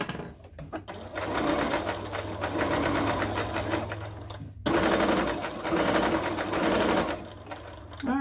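A sewing machine stitches the seams of a fabric oven mitt, its rapid steady whirring running close and loud for most of the stretch with a brief pause midway before resuming.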